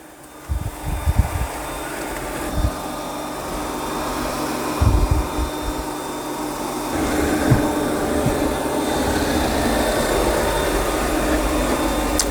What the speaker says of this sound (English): It's doing a pretty good job of vacuuming.